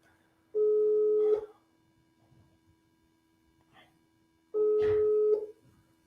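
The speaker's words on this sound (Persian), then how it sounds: "یک نفر در واتساپ زنگ زده بود، ما زنگ او برادر قبول کنیم." An incoming WhatsApp call rings in a broadcast studio, two steady electronic ring tones separated by a few seconds of near quiet with faint background sounds.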